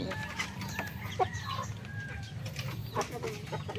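Four-month-old Gold Shamo pullets on a farm in Tabango, Leyte, cluck and murmur nearby with a few sharper calls over a low background rumble.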